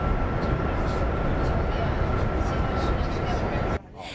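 Inside a high-speed EMU train running through a tunnel on the Changfu railway, a heavy, even roar fills the cabin and drops abruptly to a quieter hum near the end.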